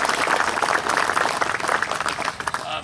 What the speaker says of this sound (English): and you can give them a big round of applause.